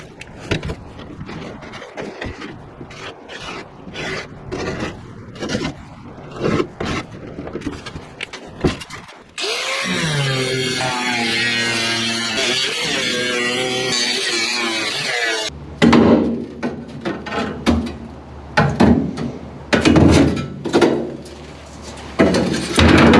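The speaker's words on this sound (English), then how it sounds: "I'm going to cut out the bed so that I can lower this in to be the same surface as the bed floor" Section of steel truck bed floor being cut out during a patch repair, heard as a long, loud continuous grinding whine in the middle, bracketed by sharp intermittent knocks, scrapes and bursts of cutting noise.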